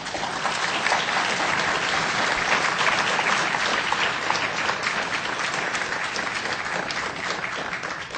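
An audience applauds at a panel discussion, a dense and steady wash of clapping that holds at an even level for several seconds with no voices.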